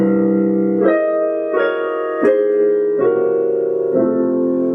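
Rich sustained jazz piano chords played one after another, five or so changes at an even, unhurried pace, clear and close with no talking.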